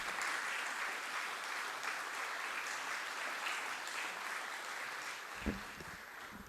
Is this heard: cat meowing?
no